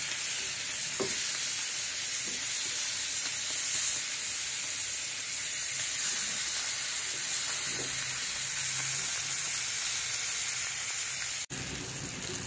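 A fish curry cooks in a pan with a steady, close, hissing sizzle and faint occasional stirring taps, cut off abruptly near the end.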